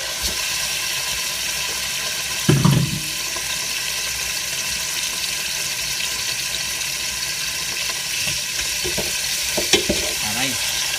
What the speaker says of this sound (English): we're gonna brown our beef, which we've chopped down to size